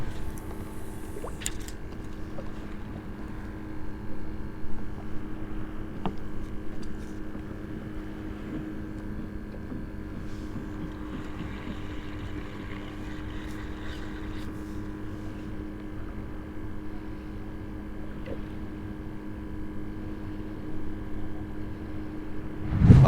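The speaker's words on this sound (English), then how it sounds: "there's a ton of boats" Steady motorboat engine drone over open water, a low continuous hum with faint wind buffeting the microphone and no speech.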